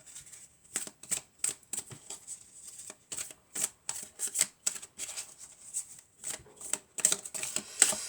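Tarot cards are shuffled and drawn by hand, a close series of crisp, papery flicks and riffles in an irregular rhythm, with no speech over them.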